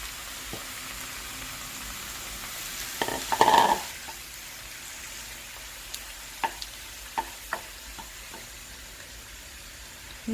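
Chopped tomatoes for butter chicken fry with a continuous close sizzle as a utensil stirs them, including one brief louder, watery burst and several light scrapes and taps against the pan, with no talking.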